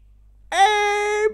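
A sheep bleats once in a video game, a single sustained, nasal cry lasting under a second that rises sharply and holds steady before cutting off, heard alone and close.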